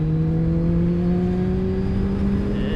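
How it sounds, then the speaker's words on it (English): A motorcycle engine roars steadily at full throttle, a loud continuous drone with a rising whine and no talking. "you can hear all the metal and all the engine grinding together and working as you full throttle"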